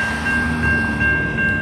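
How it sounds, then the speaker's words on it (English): CSX freight locomotives pass close by with a loud, steady rumbling drone and a sustained high tonal whine, no voices present. "I really want to enjoy and listen to the sounds of the locomotives."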